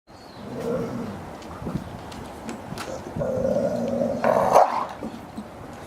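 Two puppies, a Shar Pei cross and a Border Collie cross, play close by with rough growls, snarls and short barks that swell and fade over several seconds.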